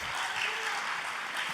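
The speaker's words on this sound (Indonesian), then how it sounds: "kita kasih tepuk tangan buat Pik." An audience at a church prayer service applauds in a brief, dense, continuous burst of clapping.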